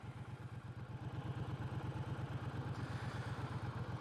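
A 2022 Triumph Bobber motorcycle engine thrums with a steady, pulsing low rumble while riding, heard close up and alone, with constant wind-like noise over it.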